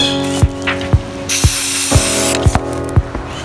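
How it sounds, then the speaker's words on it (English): Turquoise paint sprayed from a can onto a sponge in bursts, with a long hissing spray in the middle, over a rhythmic background beat. "We're gonna spray the sponge."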